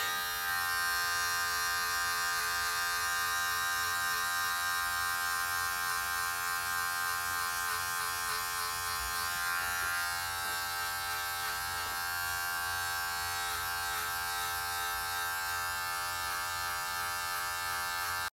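Electric hair clippers with a 1.5 guard buzz steadily and close up during a DIY haircut, a constant high-pitched hum that shifts slightly as the blades move through hair.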